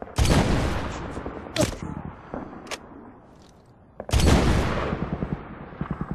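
Gunfire in the Medal of Honor video game, with two loud bursts of rapid automatic fire separated by a quieter stretch with scattered single shots, close and sharp.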